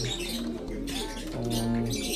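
Pigeon being handled by its keeper, giving two drawn-out throaty coos close by against a quiet background, with faint chirps around them.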